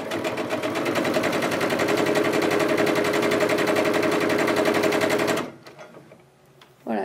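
Sewing machine stitching quilt block pieces together, a fast steady mechanical chatter running loud and close for about five seconds before stopping abruptly, followed by faint handling noises.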